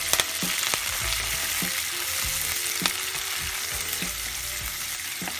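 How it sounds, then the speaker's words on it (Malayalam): Small onions and curry leaves sauté in a pan with a loud, continuous frying hiss and a scattering of stirring knocks and scrapes, close up and without speech. "ചെറിയ ഉള്ളി ഇട്ട് കൊടുക്കാം. കറി ലീഫ്, നന്നായിട്ട് നമുക്ക് വഴറ്റിയെടുക്കാം."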